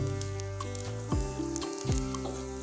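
Panch phoron spice seeds sizzle in hot oil in a wok, a steady close frying hiss with a few soft stirring scrapes, no voices.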